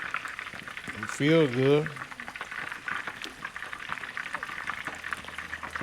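Chicken wings for crispy Chinese takeout-style wings bubble and crackle steadily while deep frying in oil, a close, continuous sizzle with a short spoken remark early on.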